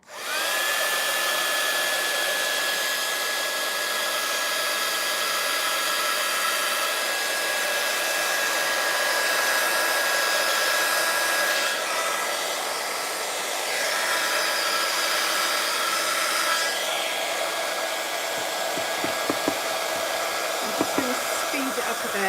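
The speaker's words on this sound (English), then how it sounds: "which you'd think with the strength of the heat gun it would just travel all over, but it doesn't" A heat gun blasts a continuous loud roar of hot air to drive water out, steady and close for over twenty seconds, its whine holding level before a brief dip and a few small clicks near the end.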